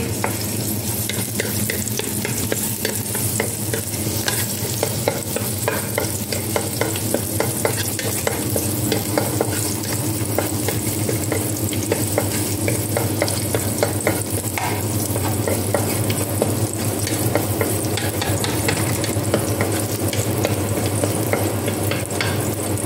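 Garlic sautés in a pan with a little oil, making a continuous close sizzle and crackle with frequent small stirring scrapes.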